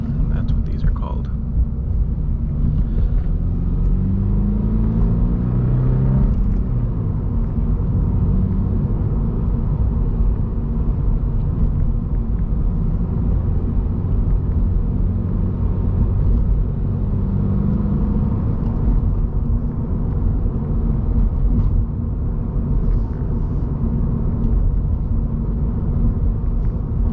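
A 2023 Subaru BRZ Sport-Tech is held in second gear through a wintry roundabout, giving a low, constant engine drone with heavy road rumble and a brief rise in revs early on.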